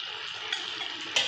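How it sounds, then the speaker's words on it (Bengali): Vegetable stalks simmering in a covered pan of water on the stove, giving a steady, close hiss of bubbling with a couple of brief louder spits near the end. "এবার টকবক করে ফুটবে"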